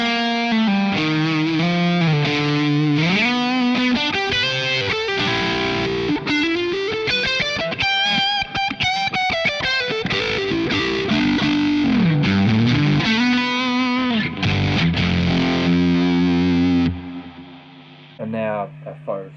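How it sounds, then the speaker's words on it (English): High-gain distorted electric guitar recorded through an impulse-response rig with no load box, playing a busy lead line with bends and sustained wailing notes, loud and dense, then dropping into a brief quieter tail at the end. "And now I'll just really go for a higher gain sort of a sound."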